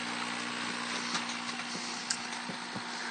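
An AeroGarden's dual oxygenator air pump vibrates as it pushes air bubbles through the water, giving a faint, steady low hum with a few soft ticks and no voices.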